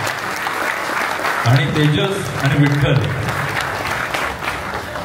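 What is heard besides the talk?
applause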